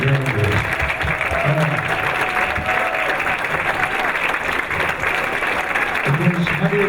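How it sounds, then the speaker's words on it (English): A dinner-event audience claps in a dense, sustained round of applause that carries through the whole clip, with voices talking and cheering underneath. "a big round of applause"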